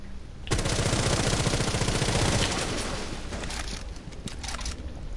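Rapid burst of shotgun blasts in a first-person shooter game, loud and dense at first, then trailing off into scattered shots and rumbling ambience.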